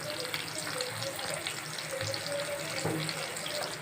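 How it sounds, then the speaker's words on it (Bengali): A little water goes into a pan of spiced cauliflower masala, making a soft, continuous splashing and bubbling hiss at low volume, heard alone. "দিলাম অল্প একটু জল।"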